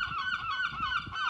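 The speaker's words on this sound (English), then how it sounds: "Seagulls joining in with the story." Outdoors, gulls call in a continuous run of nasal, honking cries, fairly close and moderately loud, with no speech over them.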